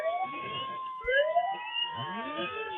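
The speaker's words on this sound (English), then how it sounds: "Joe, are they all running sirens or is it just the front one?" Several emergency vehicles in a parade all running sirens together, overlapping wailing and sweeping tones that rise and fall continuously at close range, with no talk over them.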